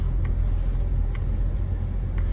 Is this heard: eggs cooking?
no